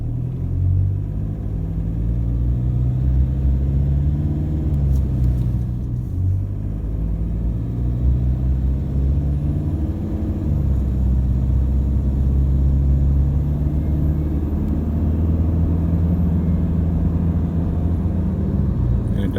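Car engine idling steadily after its fuel injectors were replaced, a close, continuous low rumble with slight rises in pitch and no misfire, running alone without talk.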